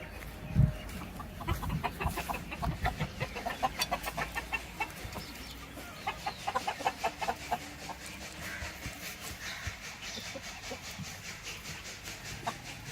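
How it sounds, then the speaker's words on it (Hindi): Desi chickens clucking inside a small village poultry farm shed, a busy run of short clucks with rhythmic pulses near and mid-distance over a low background hum. "बाकी आपको हम दिखाते हैं मुर्गियाँ"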